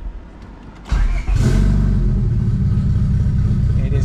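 A Honda Civic EK coupe with a D16Y8 engine starts up near the listener, catching after a brief crank and settling into a loud, rough, steady rumble with rising revs.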